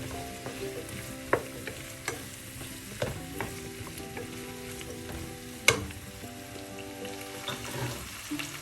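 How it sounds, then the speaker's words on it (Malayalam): Green chillies and onion are stirred into chilli chicken frying in a pan: a continuous close sizzle with scattered spatula knocks and one louder clatter partway through, and no voices. "പച്ചമുളക് സവാള തീർച്ചയായും ഇതിൽ ചേർക്കാം അത് മിക്സ് ചെയ്യാം"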